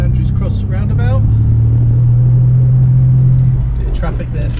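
A car driving through Plymouth city traffic, a continuous engine drone and road rumble that holds steady inside the cabin while someone speaks over it.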